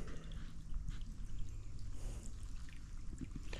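Hands being washed in a river bed, a soft trickling and splashing of water close by over a low murmur of flowing stream, with no talking.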